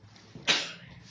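A single short, breathy sneeze, fairly close and sharp, bursting out after a brief quiet intake and fading quickly.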